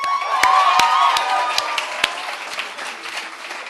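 An audience at a student awards event applauds its award winners: dense, sustained clapping from a crowd, loud at first and gradually thinning out, with a few sharp individual claps standing out.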